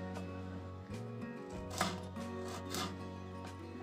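Kantola, or spiny gourd, is sliced with a knife in a kitchen, giving faint, close cutting taps at irregular intervals over a quiet hum.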